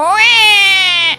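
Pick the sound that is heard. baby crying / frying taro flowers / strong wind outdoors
baby crying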